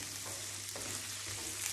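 Seafood sizzling in a pan while frying for Spanish paella, a quiet continuous crackle with faint stirring scrapes near the middle.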